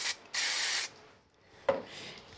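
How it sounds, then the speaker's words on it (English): A quick spray onto a die-cut Twinkle Twinkle card sentiment cut from duck egg cardstock, heard as a hissy burst, a pause, then a short second puff, close and fairly quiet. "Give it a quick spray."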